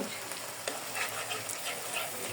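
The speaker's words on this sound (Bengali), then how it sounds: "এখন আমি সুন্দর করে আস্তে আস্তে অনেকক্ষণ লাগিয়ে ভেজে নিব।" Ginger, garlic and onion paste fries steadily in a pan for a shrimp malai curry, a continuous close hiss and crackle with faint scraping of a spatula throughout.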